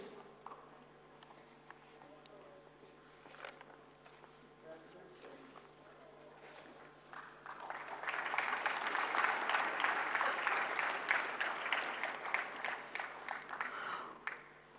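An audience at a national intellectual property conference award ceremony breaks into sustained, loud clapping that swells midway and keeps going to the end, with a voice speaking over it.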